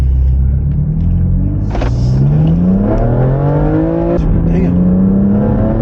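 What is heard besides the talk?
BMW F80 M3 engine accelerating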